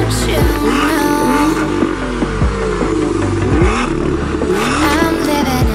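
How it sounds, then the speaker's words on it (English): A 2018 BMW M2 Coupé driving and accelerating, its engine droning steadily under loud music with a few rising revs throughout. "right now we're driving in the BMW M2"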